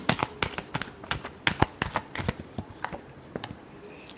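Tarot cards being shuffled by hand in repeated crisp riffling bursts, close and fairly quiet, with no voice present.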